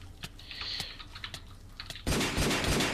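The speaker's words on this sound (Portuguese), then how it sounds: "Ó, aqui, Mike, tem um cara que atirou ali, então ele viu a gente." Rapid gunfire in a Minecraft game erupts into a dense, loud burst after soft keyboard clicking and typing taps.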